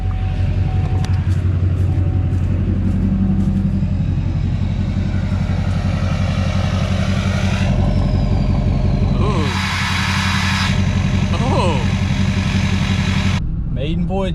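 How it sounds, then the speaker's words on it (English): A tuned Duramax diesel pickup truck accelerating at a normal pace, its loud, close engine drone holding steady and rising through gear changes, with a brief shift in tone partway through. "Just a normal acceleration."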